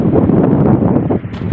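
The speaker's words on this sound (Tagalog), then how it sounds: "Sarap ng hangin." Cool outdoor wind gusts loudly against the microphone near an old SCADA control panel being stripped of cables, a brief rough rumble with no speech.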